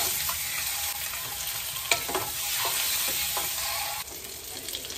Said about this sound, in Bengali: ডিমগুলোকে আমি ভালো করে লাল করে ভেজে নিয়ে তুলে রাখবো।